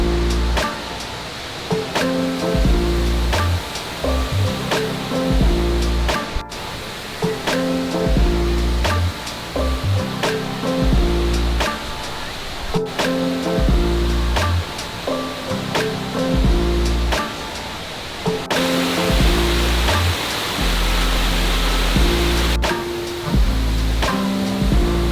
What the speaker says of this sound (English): it has the tallest indoor waterfall in the world